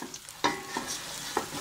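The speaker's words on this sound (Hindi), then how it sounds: "तड़का लगाते हैं, लहसुन डालेंगे पैन में, पैन में ऑयल डाल लिया है" Garlic and onion fry in hot oil in a pan for the tadka of sarson ka saag. A quiet sizzle carries on throughout, broken by a few distinct spoon scrapes and knocks against the pan.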